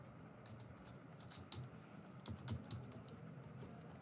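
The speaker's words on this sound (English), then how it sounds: "I'm just typing namkeens here." Computer keyboard keys clicking in irregular bursts of quick taps with short pauses, close and moderately quiet, no voices.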